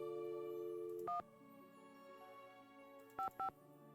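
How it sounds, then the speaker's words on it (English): Touch-tone keypad beeps sound in the Nancy Drew game Secret of the Scarlet Hand while a number is dialed, one short tone then two more quick ones, over faint background music. "Let's make an important phone call, I suppose."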